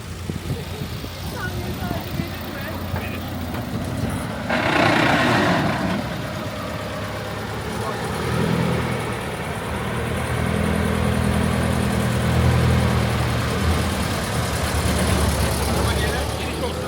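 A 1910 Renault car engine runs steadily with a low rumbling drone through the clip, its level rising a little toward the end, while people talk over it.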